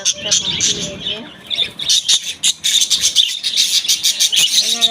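Several pet birds squawk and chirp close by in quick, overlapping bursts, with a voice faintly underneath.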